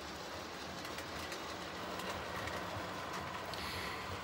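An American Flyer model train locomotive rolls steadily over track switches, giving a continuous close rumble with light clicking from the rails, with no talk over it.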